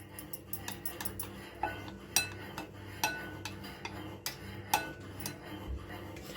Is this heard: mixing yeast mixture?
yes